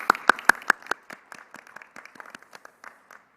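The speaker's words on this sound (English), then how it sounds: "A round of applause, I think." A few loud, sharp claps ring out at first at a university commencement, then thin into scattered, quieter clapping that tapers off over a few seconds.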